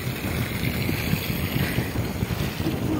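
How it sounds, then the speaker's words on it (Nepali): Wind sweeps across a hilltop ridge above Lali Kharka in Phidim, buffeting the microphone in a constant, fairly loud roar with no voices. "कस्तो दामी हावा आयो"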